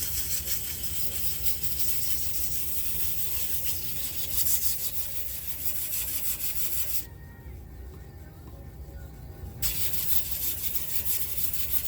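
Steady wet sanding with oil against a limba wood bowl spinning on a lathe at about 200 RPM, a continuous rough rubbing hiss that briefly softens before resuming, close and even.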